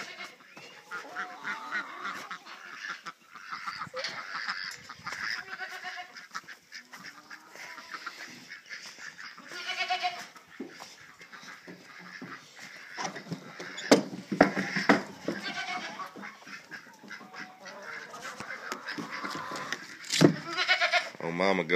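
Goats bleating nearby several times amid honking geese and other farm fowl, with a person talking intermittently.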